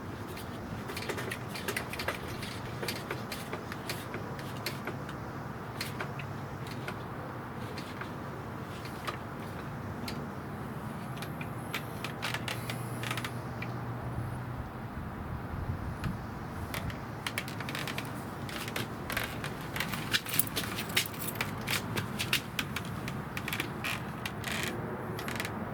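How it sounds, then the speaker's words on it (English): Propane bottle being fitted onto a Black Flag propane insect fogger, giving soft mechanical creaks and ratchet-like clicks as it is threaded on, steady and close over a low background hum, with no talking. "Now let's install the propane bottle."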